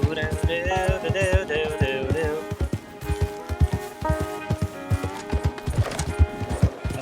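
Horses' hooves clip-clop in a steady, fairly close rhythm in the Red Dead Redemption 2 video game, a pair of horses moving over ground while sustained tonal game music plays underneath.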